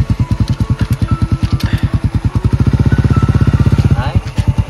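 A big-displacement manual-clutch motorcycle on a test ride runs loud and close, its engine pulsing in fast regular beats that quicken into a revving burst, then slow again.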